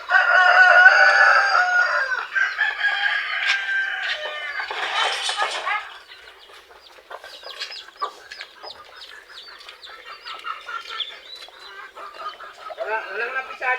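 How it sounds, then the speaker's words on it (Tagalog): Farmyard chickens and a rooster: a loud, close crowing call opens, followed by ongoing clucking and scattered bird calls, with a person talking over parts of it. "So yung mga manok naman natin ay napakain na rin naman ni Joel."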